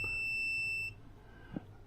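A steady electronic beep from the neutral safety switch of a 1976 BMW 2002, sounding continuously for just under a second and then cutting off, followed by a faint click.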